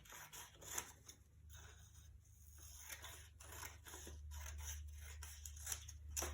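Scissors snipping through paper to cut out fraction bars, a quiet, close run of repeated crisp cuts with soft rustling of paper between strokes, no voices.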